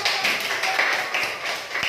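Students in a classroom clap their hands, a quick run of light close taps at moderate volume with a faint voice underneath.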